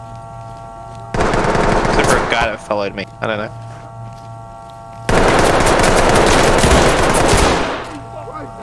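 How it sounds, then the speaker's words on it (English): Two long bursts of rapid automatic gunfire crackle loudly in the video game Ready or Not, with a person talking between them. "Hearing gunfire."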